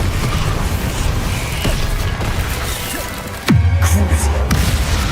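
A Bombarda explosion spell in Hogwarts Legacy lands as one sharp, loud blast with a dropping low boom, cutting through busy, noisy combat sounds that fill the scene.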